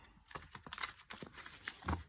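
Tarot cards from a Tarot of the Moon Garden deck being shuffled by hand, a series of soft, close riffling slaps and papery flutters in uneven bursts, with no talking.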